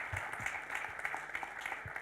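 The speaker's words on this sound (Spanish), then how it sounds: "Hoy le damos un gran aplauso a Erika y a Paulo por su gentileza de habernos acompañado el día de hoy." Audience applause at a public talk, heard as faint, distant, steady clapping that continues for the whole stretch.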